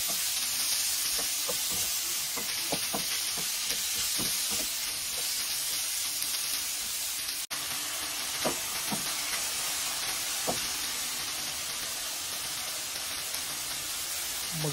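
Tomatoes sautéing with onion, garlic and ginger for sarciadong tilapia, a steady close sizzle and hiss in the pan with occasional stirring scrapes and clinks, no talk.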